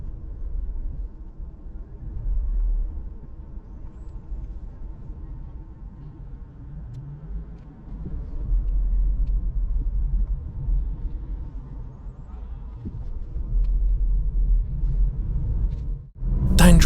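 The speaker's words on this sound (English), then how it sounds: "The revs are too high, and also accelerating too harshly." A car engine revs high as the driver accelerates harshly, a low rumbling drone that swells and rises in waves before a sharp clunk at the very end.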